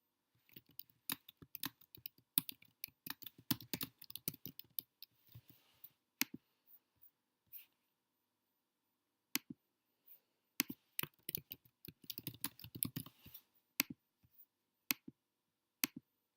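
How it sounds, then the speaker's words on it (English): Typing on a computer keyboard: scattered bursts of crisp, close key clicks with short pauses between runs, fairly quiet and with no other sounds. "What you might notice here as I'm typing is that this number is decreasing"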